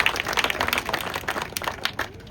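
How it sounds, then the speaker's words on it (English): A crowd at a speedway hall of fame ceremony applauds, dense and steady clapping close by that holds for a couple of seconds before thinning slightly at the end. "give him a big round of applause"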